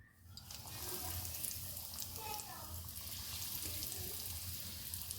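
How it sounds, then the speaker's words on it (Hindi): Paneer cutlets are lowered into hot oil in a pan, giving a steady soft frying hiss with faint bubbling, heard close and fairly quiet throughout. "ऑयल हमारा यहाँ पर अच्छे से गर्म हो चुका है। इसमें हम डालेंगे कटलेस।"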